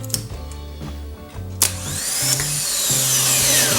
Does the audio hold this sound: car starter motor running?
yes